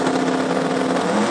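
Sports compact drag car at the Brisbane Jamboree roaring at full throttle down the strip, a loud, steady high-revving engine note held without a break.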